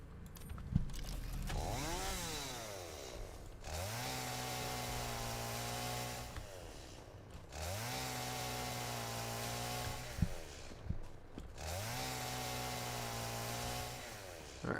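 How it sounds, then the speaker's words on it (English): A chainsaw in the video game Satisfactory cuts through trees in three long, loud bursts, each rising to a steady buzzing whine and then stopping, with short pauses in between. "Where's my chainsaw?"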